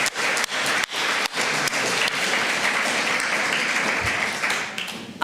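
Loud, dense applause from an audience at an evening gathering of an immigration support group, sustained clapping filling the whole stretch with a few sharp gaps, then tapering slightly near the end.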